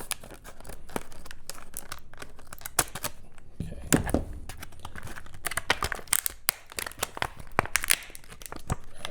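Scissors cutting open the plastic packaging of a new Master Lock combination padlock: dense crinkling, snipping and tearing of stiff plastic, close and continuous throughout.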